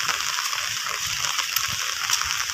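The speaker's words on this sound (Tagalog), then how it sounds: "Yan, apaw pa rin ng tubig." Rain falling on a backyard on a wet Thursday, with water overflowing from a full channel, makes a steady, close, continuous hiss and rush with no breaks.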